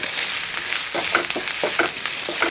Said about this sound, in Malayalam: ഇഞ്ചിയും വെളുത്തുള്ളിയൊക്കെ ഒന്ന് മൂക്കട്ടെ